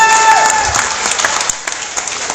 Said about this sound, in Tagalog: Grabe yung palakpak niyo sa kanila.